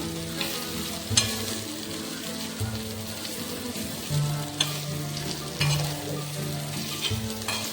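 Okra masala with grated fresh coconut stir-fried on a tawa, a steady close sizzle and crackle with periodic scraping strokes of a spatula, no voices.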